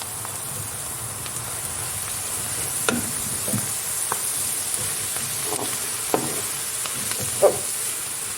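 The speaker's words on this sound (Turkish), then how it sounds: "Şimdi lahanalarımı tavama alıyorum." Chopped cabbage goes into a frying pan with fat, onions and chili flakes, giving a steady close sizzle broken by several scraping stirs and clinks of the spoon against the pan, with no talk.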